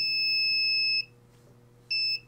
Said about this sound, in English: the buzzer buzzes and we can take action